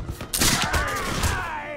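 Musket volley in Mount & Blade: With Fire and Sword, a loud crackling burst of several shots close together that tails off into a lingering rumble.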